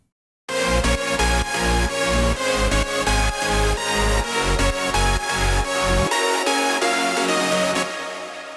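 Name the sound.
melodic parts of a 2015 Tomorrowland ID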